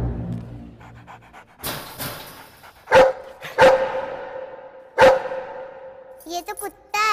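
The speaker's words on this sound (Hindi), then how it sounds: "ये तो कुत्ता है।" A dog barks in several sharp bursts with panting in between, fairly close, mixed with voices and crowd talk during a lighthearted moment with two public figures.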